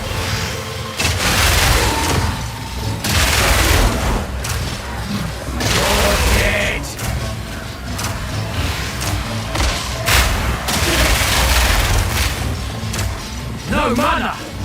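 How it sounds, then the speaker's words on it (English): Gas grenades explode again and again in the action game Path of Exile 2, a string of heavy booms and thuds layered over busy combat noise, with a player talking at times. "Gas grenade."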